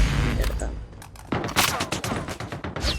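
Rapid bursts of gunfire crack in quick succession, loud and close, with a voice talking underneath the shots.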